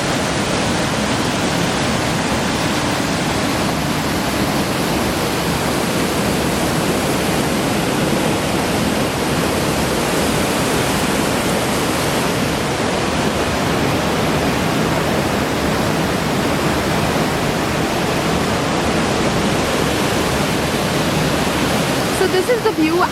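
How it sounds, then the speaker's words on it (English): A river rushes steadily and loudly nearby, a broad continuous roar of flowing water with no voices over it. "this river actually it keeps flowing"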